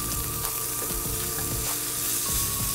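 Ham sizzling in a frying pan, a dense continuous crackle with small pops and light stirring clinks underneath, close and fairly loud, with no voices.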